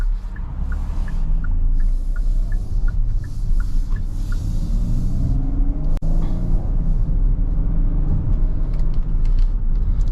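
Steady, loud low rumble of a Kia Carnival SX V6 minivan with front-wheel drive, heard from inside the cabin while driving, with a brief thump around the middle and faint chirping ticks above the drone.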